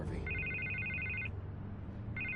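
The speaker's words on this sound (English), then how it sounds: "I can't get the phone to stop ringing." Telephone in The Batman Telltale video game ringing in two electronic trilling bursts separated by a pause, faint over a low background hum.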